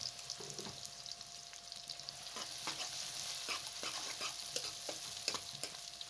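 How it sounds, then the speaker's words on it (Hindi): Whole garam masala and onions fry in oil over a medium flame, a steady close sizzle broken by repeated light clicks and scrapes of stirring, with no voices. "साबुत गर्म मसाले को ऑयल में भूनने से इसके अंदर अच्छी सी खुशबू आ जाती है।"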